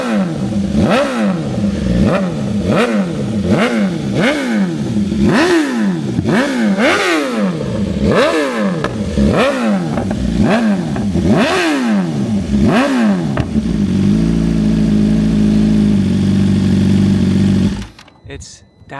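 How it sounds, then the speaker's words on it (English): A 2024 BMW M1000R engine revs repeatedly in sharp rising bursts, close and aggressive, then settles into a rough, heavy idle before cutting off. "One of the loudest, best sounding exhausts on any bike ever."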